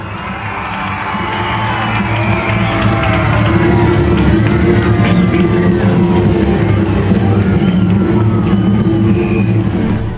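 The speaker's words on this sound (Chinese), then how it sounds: "赢得在场的欢呼" A schoolyard crowd, children among them, cheers loudly and steadily as a relay runner carrying a ceremonial torch crosses the finish line on the school sports field at a 120th anniversary celebration.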